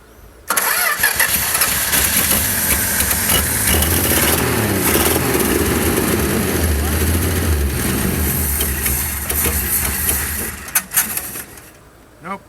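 Race vehicle engine at a racing shop cranking, then catching and running loud and steady near the microphone before cutting off, with brief voices near the end.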